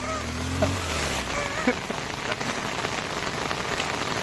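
Heavy monsoon rain pours during a flood at Kuhe Chimbipada near Bhiwandi, where vehicles push through floodwater. The downpour is a dense, steady hiss with a low rumble at the start.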